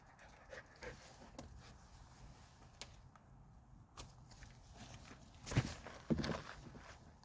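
A dog pants and pads around nearby, with a soft, irregular patter of footsteps and breathy panting and a couple of louder bursts near the end. The setting is quiet, with no talking.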